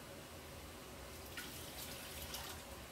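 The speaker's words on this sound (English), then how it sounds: "I might put in a little bit of water too" Water pours into a cooking pot of apples, butter and sugar while canning apple juice and sauce, a steady faint splashing stream that runs throughout.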